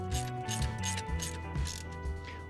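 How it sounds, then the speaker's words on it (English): Ratcheting clicks from a 1/2-inch socket wrench tightening a bolt through a seat slider mechanism on a Kawasaki KRX 1000 side-by-side, several close, quick bursts of pawl clicking in steady strokes with no talk. "Hold the bolt in place and then tighten it down with a 1/2-inch socket."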